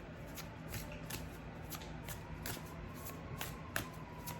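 A deck of Starseed oracle cards is shuffled in a steady run of soft riffling bursts, repeated about ten times at close range with a faint low hum beneath and no talking.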